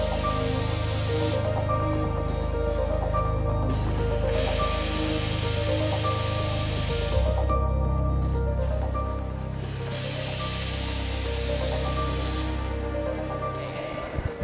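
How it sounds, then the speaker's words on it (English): A KR SCARA robot vacuum-picks a screw with its nozzle and lowers to tighten it, giving a steady mechanical hum with layered tonal whine that runs unbroken and fairly loud from start to finish. "the screw will be vacuumed by this nozzle and then go down to tighten the process"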